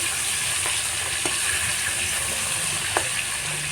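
Fish pieces frying in oil hiss with a constant bright sizzle, close and fairly loud, with a few soft pops and spatters scattered through.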